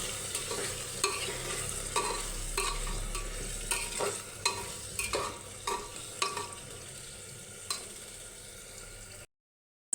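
Meat sautéed with sour yogurt in a pan gives a soft, steady sizzle with bubbling and regular spatula scrapes and taps, close up, then a sudden cut to silence near the end.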